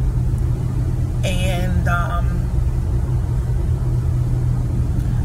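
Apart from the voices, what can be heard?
Ford Transit van driving, engine rumble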